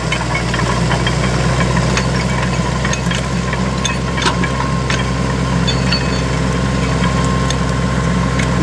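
A big, wide tractor pulling a crumbler cultivator across a maize field gives a steady, loud low engine drone with a knocking vibration, running without a break from start to finish.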